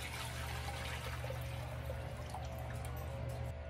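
Strained beef short rib braising liquid poured from a strainer back into a hot pot, a steady, continuous trickling stream that runs without a break for a few seconds.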